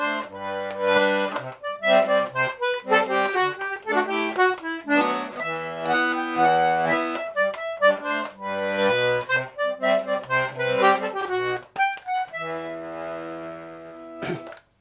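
A D/G melodeon plays the B part of the schottische tune Schottische a Bethanie, with a lively run of reedy melody notes over pulsing bass chords, ending on a held chord, close and alone.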